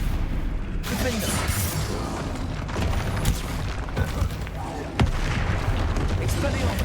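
Spell blasts such as Confringo and Bombardo in the Hogwarts Legacy video game, heard as dense booming bursts and crackling impacts over a continuous loud battle din, with a sharp hit near the end.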